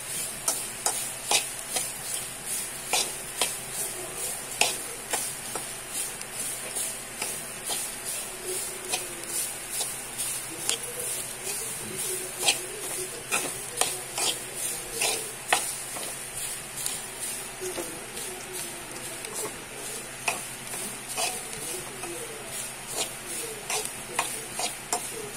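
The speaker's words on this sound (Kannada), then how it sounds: "ಎಣ್ಣೆ ಹಾಕಲಿಕ್ಕಿಲ್ಲ, ಡೈರೆಕ್ಟಾಗಿ ಅಲ್ಲೇ ಬಾಣಲೆಗೆ ಹಾಕಿ ಹುರಿಯುವಂಥದ್ದು." Grated coconut and turmeric dry-roast in a pan without oil for a clam sukka, with regular scraping strokes of a spatula over a faint continuous sizzle, close and moderately quiet.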